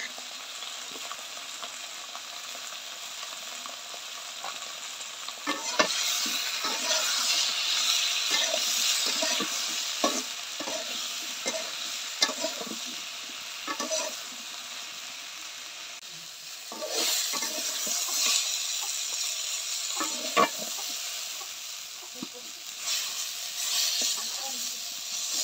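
Eggplant fries in oil with turmeric and salt over a clay stove, producing a continuous hissing sizzle broken by repeated scraping stirs that swell the crackle at intervals.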